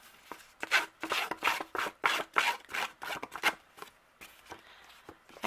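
A distressing tool rubs and scrapes along the very edge of a piece of paper cardstock, making a close series of quick, rhythmic scratchy strokes, a brief pause, then a few softer scrapes at the end.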